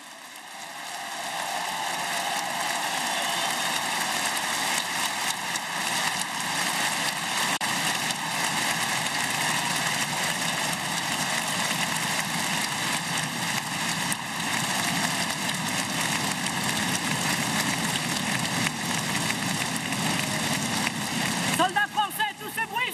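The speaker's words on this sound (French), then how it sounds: "Vous pouvez les applaudir." Large rally crowd in Lille applauding French soldiers, a dense, loud, continuous roar of clapping and cheering that swells and holds for over twenty seconds without a break.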